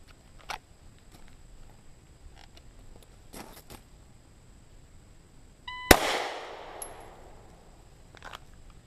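A shot timer's electronic beep followed by a single sharp handgun shot on an outdoor range, loud and close, with a ringing echo decaying over a couple of seconds amid faint background clicks.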